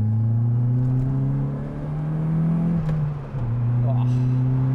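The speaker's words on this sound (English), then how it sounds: "Let's get that turbo whistling." A turbocharged MG Maestro Turbo engine drones steadily at close range, its pitch rising and falling with gear changes as it accelerates, a faint turbo whine riding above the roar.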